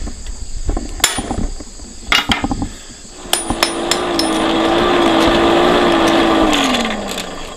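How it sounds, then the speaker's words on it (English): Blacksmith striking a countersink into a workpiece with a small ball peen hammer, a few sharp, ringing metallic blows at irregular spacing, close and loud, over a steady insect-like chirring and a drawn-out tone. "I'll take a small ball peen hammer and put a countersink into it"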